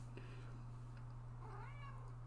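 A pet cat gives a soft, faint meow or two close to a microphone, over a steady electrical hum and low background noise.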